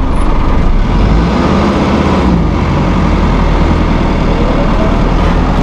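A 2001 New Holland TL100 utility tractor sits in first gear with its engine given a little RPM. It makes a loud, close, continuous diesel rumble that holds steady throughout.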